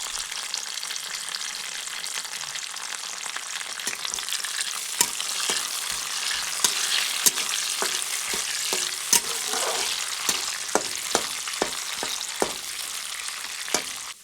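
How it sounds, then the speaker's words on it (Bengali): Cashews sizzle steadily in hot ghee, a dense broadband crackle with sharp clicks and taps of a spoon stirring against the pan scattered throughout, no voices. "প্রথমে কাজুগুলি হালকা লাল লাল করে ভেজে নেবো"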